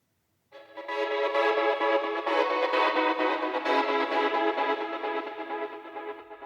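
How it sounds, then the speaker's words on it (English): Soulful house track with a subtle orchestral string layer under an echo stutter effect, playing steadily and loud after a brief silence, with no voices. "added in this kind of like string sound, which is kind of like just very subtle"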